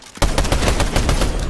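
Rapid video game gunfire erupts after a brief quiet start, a loud, steady burst of automatic shots with evenly spaced sharp cracks continuing to the end, no voices over it.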